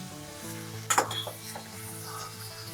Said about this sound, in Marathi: त्याच्यात आता आपण आपल्या सगळ्या भाज्या घालूयात आपण याच्यामध्ये ही मोठी मोठी चिरलेली वांगी एक वाटीभर मटार